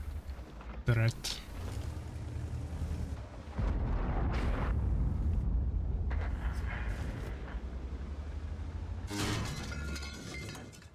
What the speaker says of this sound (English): The artillery is helping us a little bit.